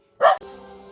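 A dog gives one sharp, close bark at other dogs outside, followed by a faint lingering tone.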